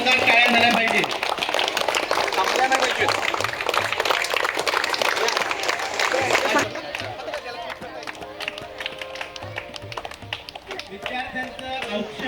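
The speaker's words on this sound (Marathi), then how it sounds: "त्यांच्यासाठी सुद्धा जोरदार टाळ्या झाल्या पाहिजे." Loud, dense clapping from a crowd welcoming students at a school admission celebration in an aided residential ashram school. It fills the first six seconds, then thins to scattered claps under voices and background chatter.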